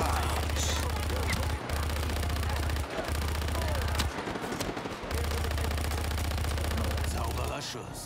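Sustained automatic gunfire from the video game Just Cause 3 fills the clip in long dense bursts with brief pauses, loud and close, with game sound effects layered over it.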